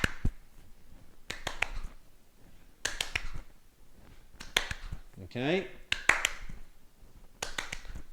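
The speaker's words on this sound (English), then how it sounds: "with your tennis ball, if you're using a tennis ball, clap before you catch it" Sharp hand claps come in short clustered bursts during a primary school tennis exercise at home, each burst followed by a pause, with a speaking voice between them.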